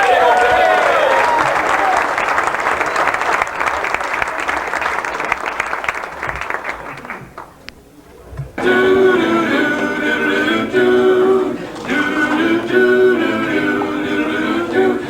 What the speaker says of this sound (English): a big round of applause for his wonderful job as our MC for this show